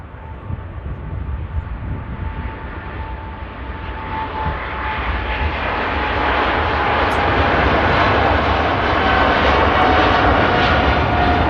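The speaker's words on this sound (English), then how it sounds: "And off goes the Qatar 777 rocketing out to Doha." A Qatar Airways Boeing 777 jet takes off from Manchester Airport, its engine roar building steadily from a broad rumble into a loud, sustained sound.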